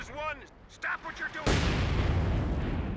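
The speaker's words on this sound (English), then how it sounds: "So we'll fire off one shell into this blob." A single M8 Scott barrage shell in Company of Heroes 2 fires and then bursts with a loud, sustained explosive roar that fills the second half, following brief game sounds and chatter.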